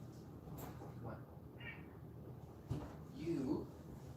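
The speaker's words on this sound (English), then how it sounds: "You are too meowy for 8 a.m." A house cat meowing indoors in the morning, a short faint meow rising near the end over low background noise and soft speech.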